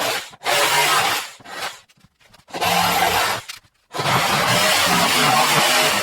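A saw cuts through a wooden board clamped down before the cut, producing loud, close, rasping strokes in three long bursts broken by short pauses.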